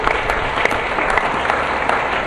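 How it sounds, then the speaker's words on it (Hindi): Steady, loud applause from an audience at a village religious gathering, dense, even clapping that keeps going without a break. "एक बार उन सबके जोरदार ताली बजा देगा"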